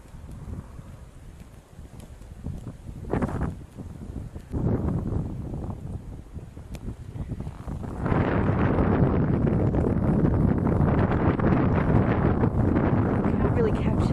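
Strong icy wind in a small blizzard roars and buffets the microphone in uneven gusts, growing louder and more constant in the second half.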